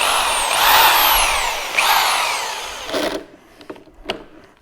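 A power drill whirs loudly and close in a workshop where a 1968 Fiat 500 engine is being revived, spinning up twice in a rising whine before trailing off into scattered clicks and knocks.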